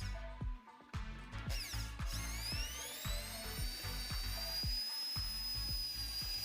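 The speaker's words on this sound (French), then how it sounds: "Percez un trou dans le tube, à suivre." A power drill bores a hole into a metal tube cut from an old coffee maker, giving a steady rising whine with rapid rhythmic ticking from the bit, close and continuous for several seconds.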